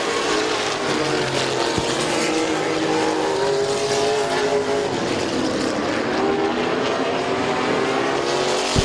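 Race cars roar around the oval at Midvale Speedway, a dense, continuous engine drone with overlapping pitches from several cars passing, loud and sustained throughout.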